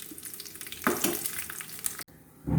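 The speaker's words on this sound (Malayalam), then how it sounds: "ഉള്ളിയൊക്കെ ഒന്ന് ബ്രൗൺ നിറമാകുന്നത് വരെ നന്നായിട്ടൊന്ന് വഴറ്റി കൊടുക്കുക" Onions sauté in a pan for a pineapple pulissery, sizzling steadily with louder bursts as they are stirred, then a brief pause before the frying resumes.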